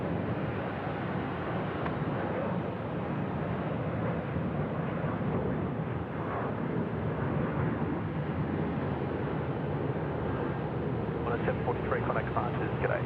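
Jet airliner on a night takeoff at Sydney Airport, a broad steady roar rumbling at a distance beneath continuous commentary from nearby spotters talking over it.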